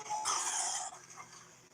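A dog barks and yelps indoors at home, a loud excited burst in the first second that trails off into fainter, broken sounds.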